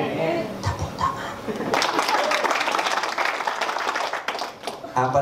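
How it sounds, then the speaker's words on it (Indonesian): A congregation applauds during a church sermon, with dense, sustained clapping that builds after a brief voice and continues steadily to the end. "Tepuk tangan."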